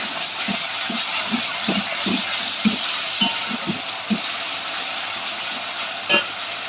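Food being stirred in a pan right after a little sugar goes in, with a steady frying sizzle underneath and a series of soft, rhythmic scraping knocks from the spoon, fairly close.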